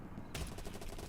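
Rapid burst of automatic gunfire in a video game match, a fast rattling string of shots starting abruptly and continuing to the end, fairly faint.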